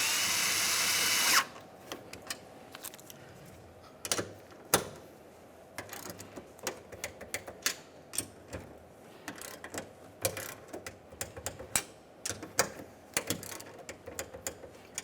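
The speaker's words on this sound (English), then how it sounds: "Now we can snug each of these mounting nuts and then torque them to 60 inch-pounds." A wrench works mounting nuts on a mirror bracket of a 1994-2002 Dodge Ram 2500 truck, with a brief loud mechanical buzz at the start and then scattered clicks, taps and ratcheting sounds, close up and without speech.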